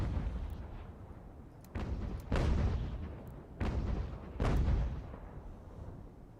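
Ship's cannons fire in Ultimate General: American Revolution, a naval battle with four heavy booms in an uneven rhythm, each with a long rumbling tail, loud and alone.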